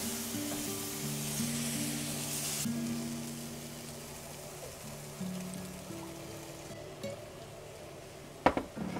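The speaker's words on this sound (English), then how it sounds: "I'm going to add a little bit at a time. And you want to do a non-stop whisking" Whole milk being whisked little by little into cooked flour in a hot pan for a creamy sauce makes a soft, steady sizzle and liquid swish, fairly quiet, ending with a couple of sharp clinks.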